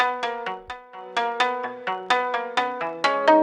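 Added harmonics from a harmonic exciter turned way up with the dry signal off, a bright, ringing sequence of plucked melodic notes in a quick, even rhythm, clean and close with no talk.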